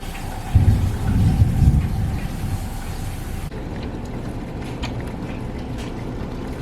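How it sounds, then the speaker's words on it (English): Rolling thunder in a heavy rainstorm: a deep, booming rumble swells early over steady, hissing rain, then eases into a continuous downpour with scattered droplet taps. "It's like rolling thunder. It's raining, it's storming really bad."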